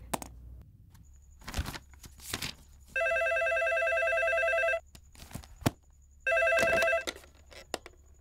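A telephone bell rings in two long bursts of steady electronic trilling, loud and close, separated by a pause, with scattered thumps and movement noise around them and no speech.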